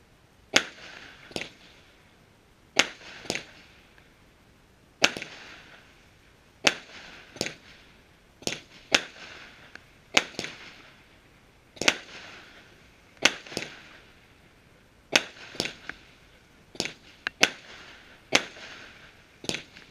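A 25 mm fireworks battery of 19 shots with silver tail rises bursting into silver palms and red glitter, ending in a signal salvo; sharp loud bangs come in quick pairs at regular intervals, each with a short rumbling decay, outdoors on New Year's Eve.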